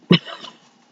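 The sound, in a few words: dog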